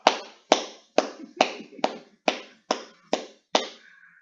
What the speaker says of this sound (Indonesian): Aplaus untuk kelompok genap